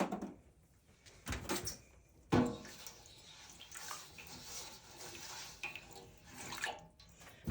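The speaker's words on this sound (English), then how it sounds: "Add a little bit more water in there." Water splashes and trickles into a container while yarn is being prepared for dyeing with a yellow base, soft and close with a few knocks and clunks of handling mixed in.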